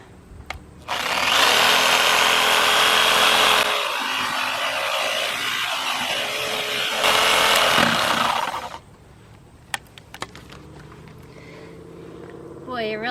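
Power tool cutting wood for a compost fence, a loud sustained whine in two long bursts with a brief drop in pitch between them, then stopping, leaving quieter outdoor sounds and scattered knocks.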